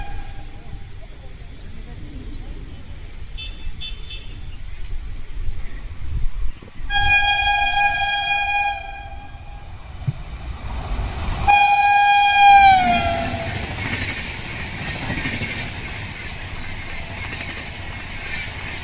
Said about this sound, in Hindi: Hoshiarpur Agra cantt express.